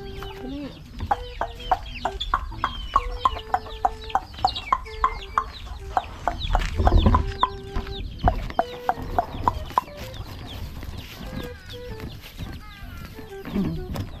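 Hens cluck in a busy flock, with short repeated calls and squawks close by, a brief burst of louder activity in the middle.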